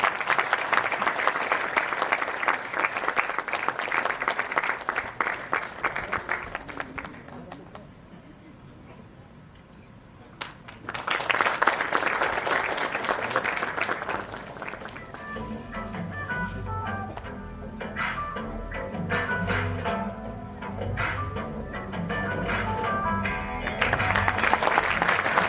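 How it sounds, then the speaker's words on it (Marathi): An audience claps loudly at a Marathi indie music award ceremony, with two strong bursts of applause separated by a brief quieter lull, then sustained clapping mixed with background sound. "जोरदार टाळ्या झाल्या पाहिजे."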